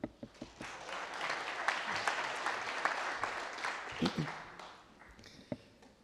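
An audience at a congress opening in Pau applauds a speaker, a swell of clapping that rises and then fades, with some voices mixed in.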